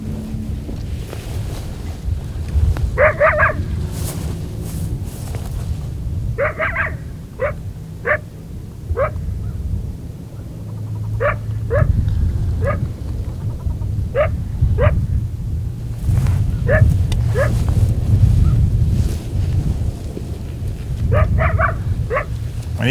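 Coyotes call from a short distance away during a hunt: repeated short yips and howls rise in scattered bursts over heavy wind noise and low rumble.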